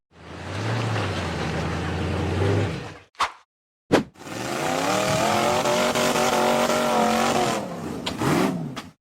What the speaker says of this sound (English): The buggy revved hard as it struggled to climb a steep rock ledge.